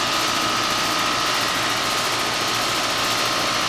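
New Trane XL15i 4-ton heat pump running in cool mode outdoors, a loud, constant droning hum with steady fan whoosh and a faint motor whine, unbroken and close.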